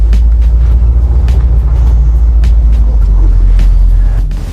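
A 1979 right-hand-drive automatic Aston Martin V8 rolling along at very low speed, its engine a steady, loud, close rumble throughout, with no talk over it.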